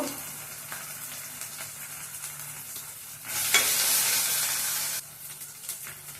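Ginger paste and onions sizzle steadily in a frying pan while being stirred, with a louder burst of hissing steam midway before settling back to the close, even crackle.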